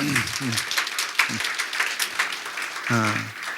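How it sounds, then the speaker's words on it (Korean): A church congregation at a Wednesday lecture breaks into warm applause, a continuous bed of clapping with a voice speaking over it at intervals. "다 같이 온 마음을 다 뜨겁게 박수를 보내드리겠습니다."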